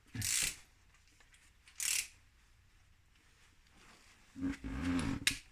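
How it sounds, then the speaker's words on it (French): An impact wrench with a 17 mm socket working on the rear brakes of a 2021 Mitsubishi Eclipse Cross, two short rattling bursts and a longer whirring run near the end, close and fairly quiet. "17 mm. Donc clé à choc. Socket."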